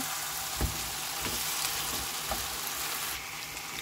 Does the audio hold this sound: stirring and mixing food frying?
yes